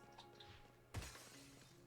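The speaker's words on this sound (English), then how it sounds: "Heard a loud crashing." A sudden shattering crash breaks over a quiet synthesized game backdrop in the video game Chained Echoes, one sharp impact followed by a short scatter of debris while the faint ambient tones continue.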